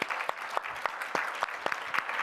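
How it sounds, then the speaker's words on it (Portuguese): Quiet, sparse applause from a conference audience before a talk on AI and music, with distinct individual claps landing in an uneven rhythm over about two seconds. "Uma salva de palmas"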